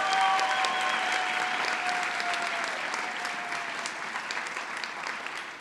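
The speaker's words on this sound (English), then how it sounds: "Round of applause for you all." Sustained applause from a large audience at a University of Michigan Latina graduation celebration, steady and dense throughout, fading slightly toward the end, with a faint voice or tone lingering under the clapping.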